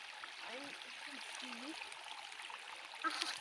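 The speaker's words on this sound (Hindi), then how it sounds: "तो ये जो पानी है ये बिल्कुल साफ़ है, बहुत अच्छा है।" Clear, cold mountain stream water flowing through a jungle, a soft continuous rush and trickle heard close, with faint bird-like chirps and a brief brighter splash near the end.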